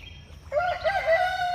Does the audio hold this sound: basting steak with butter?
no